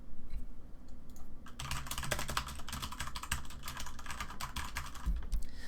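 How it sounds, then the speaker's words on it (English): Quick, continuous clacking from fingers typing on a mechanical computer keyboard, close and crisp, with dense uneven keystrokes running the whole time and no speech. "So that's about what a mechanical keyboard sounds like."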